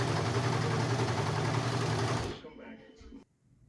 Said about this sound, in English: now it's time for me to check it out for myself to see how well the machine is running